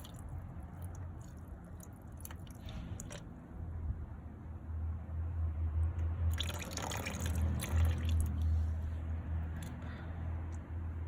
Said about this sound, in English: So now I'm going to be pouring in half a glass of that warm water directly